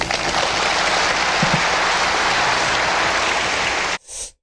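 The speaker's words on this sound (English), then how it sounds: "The applause he gets at the end is what you'd expect a rock star to get at the end of a concert." A lecture hall audience gives dense, sustained applause at the end of a talk on cold fusion, a steady roar of many clapping hands that stops abruptly, followed by a brief faint sound.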